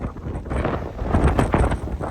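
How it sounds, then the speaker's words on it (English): Gusty outdoor wind rumbles against the microphone in uneven surges, moderately loud and continuous with a few sharper bumps, no voices. "It's so windy."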